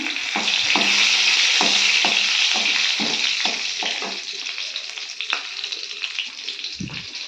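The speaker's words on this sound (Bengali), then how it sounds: "এই যে তেলের মধ্যে কালো জিরের ফোড়ন দিয়ে দেব" Nigella seeds and green chillies hit hot oil in a Bengali home kitchen, giving a loud crackling sizzle that gradually settles, marked by repeated stirring scrapes and a few knocks near the end.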